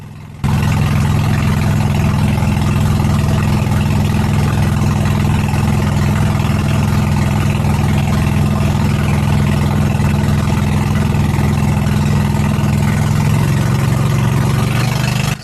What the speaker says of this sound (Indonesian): Suara mesin perahu yang kami tumpangi membelah air